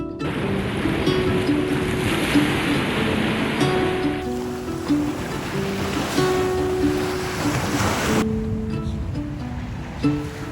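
Ocean waves wash steadily onto a beach at sunrise, a continuous close roar of surf with some wind noise and no break in the churn.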